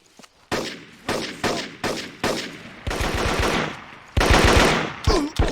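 Machine gun fire in the jungle warfare shooter Marine Sharpshooter 2, loud and close, with several short bursts of rapid shots followed by longer sustained volleys, under a busy battle soundscape.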